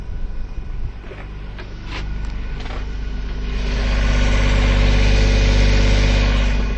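A sailboat's engine, which has been having a fault, idles with a steady low hum and vibration, preceded by a few clunks and knocks, then swells gradually louder and rougher.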